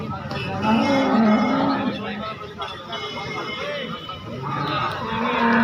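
A cow moos at close range over a busy crowd at the Sangola cattle market, with people talking throughout and general market bustle in the background.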